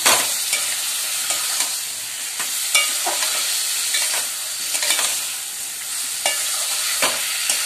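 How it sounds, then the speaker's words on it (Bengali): Meat being sautéed with ginger, garlic and fried onion for a mutton dish, a steady close sizzle with repeated sharp scrapes and clinks of a stirring spoon against the pan throughout, no voices. "মাংসটা আমি ভালো করে কষিয়ে নিচ্ছি"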